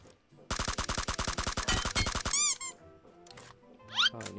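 Automatic gunfire in PUBG Mobile, a rapid, loud burst of about twenty evenly spaced shots lasting nearly two seconds, followed by ringing echoes and a few sparser distant shots and squeaky sounds.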